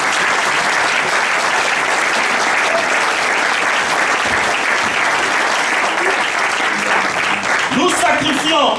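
A church congregation acclaims God with loud, sustained applause and cheering voices, a dense, continuous roar of clapping that carries on to the end.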